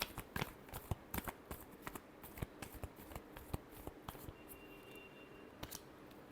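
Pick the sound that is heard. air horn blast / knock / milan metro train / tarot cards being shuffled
tarot cards being shuffled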